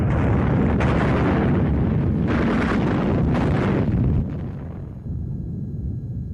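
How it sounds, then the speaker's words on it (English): Heavy artillery fire and explosions pounding a city center, a dense, continuous roar of rumbling blasts that stays loud and broad before easing somewhat toward the end, with no voices. "heavy artillery pounded the city center"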